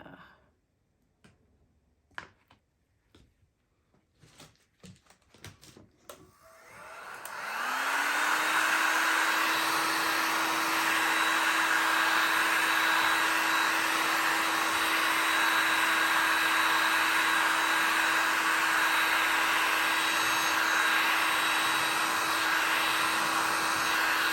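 A few faint knocks and taps give way to a heat gun switching on and blowing a loud, steady whirring rush over resin art, continuing unbroken to the end.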